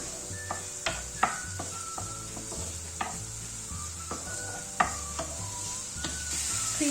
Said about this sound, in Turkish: Şöyle çok hafif soğanlarımı yağda kavuracağım.